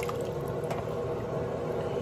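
Very hot water being poured while bleaching frontal wig knots, a steady, close, continuous splashing pour with faint drips, heard alone.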